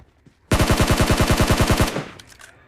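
Automatic gunfire in the PUBG Mobile video game, one loud sustained burst of about fifteen rapid evenly spaced shots lasting around a second and a half, then a short fading tail.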